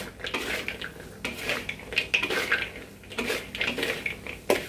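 Popiah (spring roll) filling being tossed and mixed in a pan, with repeated clattering scrapes of a utensil against the metal in an uneven rhythm, close and fairly loud, no talking.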